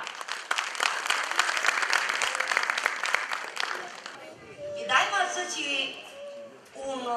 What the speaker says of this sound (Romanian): Să o aplaudăm!